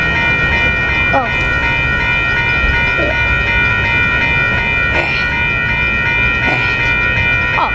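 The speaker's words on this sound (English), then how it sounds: "Oh, here comes the high-speed surf liner." An Amtrak Surfliner passenger train approaches and passes at Carlsbad Village, its loud rolling roar steady with a sustained tonal hum, while a voice briefly exclaims nearby.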